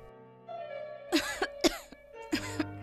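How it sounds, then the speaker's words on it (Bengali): A person coughs several times in quick, short bursts, close and fairly clear, with a low tone sounding in the background. "তুই এত কাশছিস কেন বলতো?"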